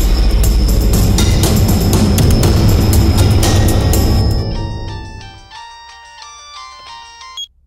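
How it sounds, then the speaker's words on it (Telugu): A telephone rings with a loud, repeating electronic tone that plays strongly at first, then thins out and fades near the end. "ఎంతసేపు ఫోన్ మోగుతుంటే తీయకుండా ఏం చేస్తున్నావు?"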